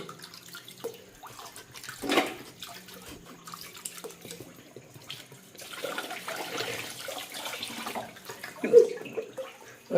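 Running tap water splashes as cut mutton is washed, in fairly quiet, intermittent gushes and trickles with a fuller stretch of flow toward the end.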